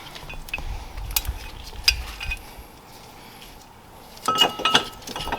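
Metal brake caliper bolts from a 2004-2009 Toyota Prius front brake job clink and rattle as they are handled, a few sharp taps and jingles with quieter shuffling between and a louder cluster of clinks near the end.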